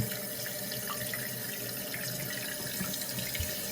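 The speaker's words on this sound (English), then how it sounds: "So there goes the water into the tank." Water runs steadily into a toilet tank from the household supply, a constant rushing hiss with slight gurgling, fairly faint and close, with no talk.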